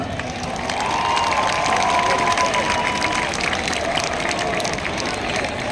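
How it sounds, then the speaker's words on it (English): An audience at a college sports and cultural fest, VIT Riviera 2025, gives a steady round of applause mixed with cheering, a broad continuous wash of clapping and crowd noise that carries on without a break. "Can we have a huge round of applause for sir?"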